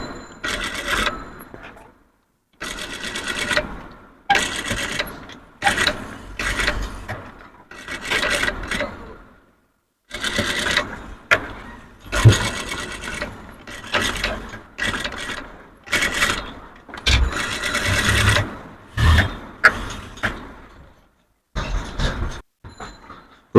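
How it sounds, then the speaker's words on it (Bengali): A sewing machine runs a top stitch along a three-piece dress in bursts, each whirring run of a second or two broken by short silent pauses, close and loud, repeating over and over. "তো একটা টপ স্টিচ দিয়ে দিচ্ছি"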